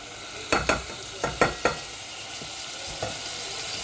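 Tomatoes going into frying Mumbai-style chicken masala, heard as steady sizzling with about six sharp, close scraping stirs of a spatula against the pan, clustered early and then one more after a pause.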